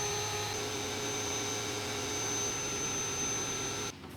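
A laser cutter cuts painted wooden daisy flowers with a steady, loud whirring hum of fan and extraction that holds constant for several seconds and then drops off abruptly near the end.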